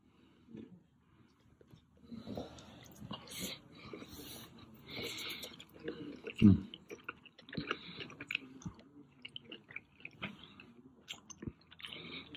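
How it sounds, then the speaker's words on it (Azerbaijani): Someone eats sushi close to the mic, with soft wet chewing, squishy bites and occasional sniffs coming in irregular bursts against a quiet background. "Və mən bir dənəsində bu dadına baxacağım."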